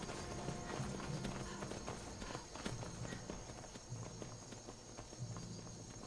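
Horse hooves clip-clopping at a walk in the video game Skyrim, a steady uneven patter of soft thuds under faint ambient game sound, fairly quiet and distant.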